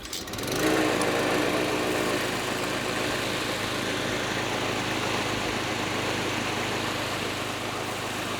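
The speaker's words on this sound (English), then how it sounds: "I'm gonna start with mowing" A lawn mower runs steadily at close range, starting up and then holding a constant droning hum while mowing grass on a private disc golf course.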